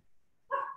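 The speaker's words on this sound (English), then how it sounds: "It wouldn't be a recording on my end without it hearing my dogs bark in the back." A dog barks once in the background of an indoor call, a single short bark that comes after a quiet stretch and is heard alone.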